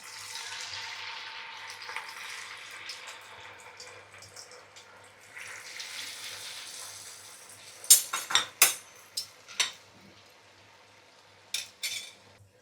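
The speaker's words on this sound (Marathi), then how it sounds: "आता आपण फ्राय करून घेऊया तेल गरम झालेलं आहे" Sabudana vadas fry in hot oil with a faint, steady sizzle, then a run of sharp metal clinks and taps from a utensil against the pan.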